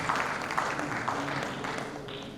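Congratulatory applause at an arts ceremony honoring Chungbuk artists, a steady wash of many hands clapping at moderate level that continues throughout, with a faint voice murmuring underneath.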